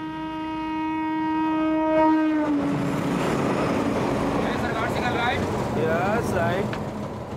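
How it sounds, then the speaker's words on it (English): A milk train pulls into a station on an old line, its sustained horn blaring for a few seconds before giving way to a rolling rumble, with a voice speaking over it later. "before the train arrives, Govindarajan must coordinate with other stations to make sure that his line is clear for the coming train"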